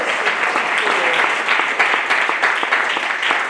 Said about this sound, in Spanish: Denle ese aplauso a Jesús.